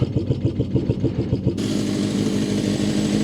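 A Suzuki Katana 550 classic motorcycle engine, P-registration, runs with a loud pulsing rhythm of revs that gives way after about a second and a half to a steady, dense roar as the bike pulls away on a test ride.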